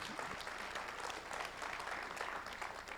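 Steady applause from an audience at a French business award ceremony, the 91 d'Or for customer loyalty, a dense even patter of many hands held at a fairly soft, distant level throughout.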